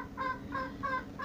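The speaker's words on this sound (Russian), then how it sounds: "Ходит, квохчет, кудахчет." A laying hen in a nest box gives three short, rhythmic clucks, close and clear, against a quiet barn background.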